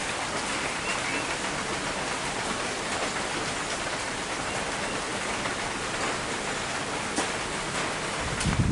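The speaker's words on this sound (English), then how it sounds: "It's a rainy day, so they're here in the shelter." Rain falling steadily outside an animal shelter on a wet day, a broad even hiss of drops on surfaces that holds constant throughout, with no speech.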